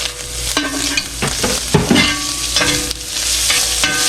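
Cheesesteak meat and peppers sizzle loudly on a hot griddle while a spatula scrapes and chops through them in repeated close strokes over the steady hiss.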